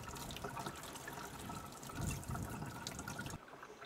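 Water runs from a tap while something is washed, a continuous close splashing trickle that swells briefly midway and drops off just before the end, with no one talking.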